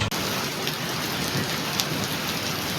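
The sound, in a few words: first monsoon rain falling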